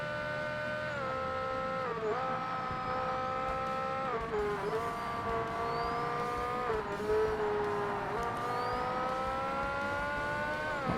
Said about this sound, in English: I can tell it's the BMW because it makes a really weird oscillating noise as well.